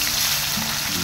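Whole spices, bay leaf, dried chilli, cinnamon, cardamom and cloves, fry in hot oil in a pan for chicken biryani, a close, steady crackling sizzle with a faint low hum underneath.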